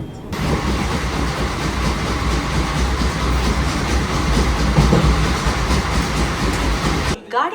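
A train pulls out of Khagraghat station at night with a loud, continuous rumble and rhythmic clickety-clack of wheels close by, voices faintly present, ending abruptly.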